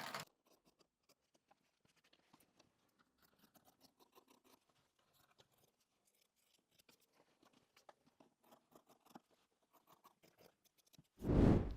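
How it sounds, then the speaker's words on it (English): Scissors snip through quilting wadding in a run of short, quiet cuts, each blade close with a soft crisp crunch, and a brief louder rustle comes at the end. "So I'm actually just going to do that with a pair of scissors"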